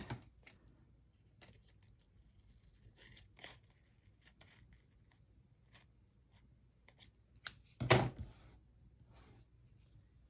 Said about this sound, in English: I'm going to go ahead and cut the stem off.